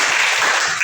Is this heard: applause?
yes